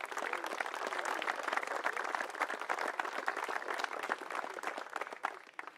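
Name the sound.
applause for team captain at presentation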